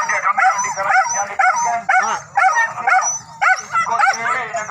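Dogs at a dog race near Bumbang bark and yip close by in rapid, excited bursts that run on continuously and loudly.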